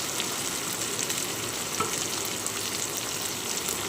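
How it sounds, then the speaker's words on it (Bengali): Prawns and slit green chillies fry with browned onions in hot oil, giving a steady, dense sizzle that stays loud and even throughout, with faint stirring and no talking. "পেঁয়াজগুলো লাল করে ভেজে নিয়েছি দিয়ে দিচ্ছি চিংড়ি মাছ দিয়ে দিচ্ছি চেরা কাঁচা লঙ্কা"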